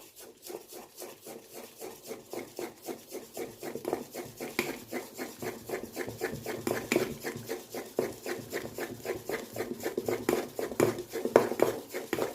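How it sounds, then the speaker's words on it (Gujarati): Dhokla batter mixed with oil is beaten by hand in a bowl, a fast, steady rhythm of wet slapping strokes, several per second, close and gradually louder over about twelve seconds. "આ રીતના એક જ હાથે અને આ જ રીતે ફેટી લેવાનું છે"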